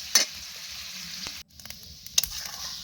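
Kohlrabi curry cooks in a pan as broth is stirred in, a low sizzle broken by a few sharp spoon scrapes and a brief pause in the middle.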